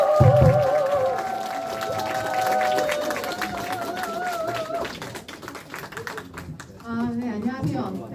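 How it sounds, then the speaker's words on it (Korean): A crowd at a political party members' meeting claps to welcome a speaker. The clapping sits under music and a voice that fades out near the end, then a dense patter of applause takes over. "황정아 의원님을 뜨거운 박수로 모시겠습니다"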